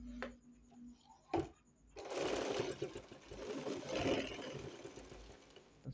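A sewing machine stitches through thick cloth folded twice, starting with a couple of sharp clicks and knocks before settling into several seconds of fairly quiet, uneven mechanical whirring close by.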